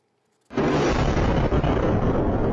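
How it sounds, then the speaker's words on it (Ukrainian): Fuel tanks exploding at a Russian oil refinery in Tuapse. After a quiet start comes a sudden loud blast that settles into a sustained roar filling the rest of the clip. "На відео вибухають резервуари з паливом на російському нафтопереробному заводі в Туапсе"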